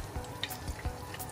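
Bananas frying in oil for pisang goreng, a quiet steady sizzle with a few soft stirring clicks close by.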